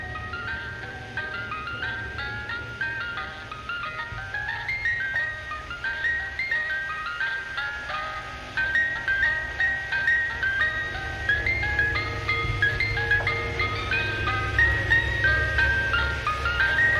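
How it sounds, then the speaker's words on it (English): An ice cream truck's tinkling music-box jingle plays continuously and fairly loudly, repeating its melody with a low rumble underneath that grows stronger in the second half as the truck passes by. "anytime I'd hear an ice cream truck passing by"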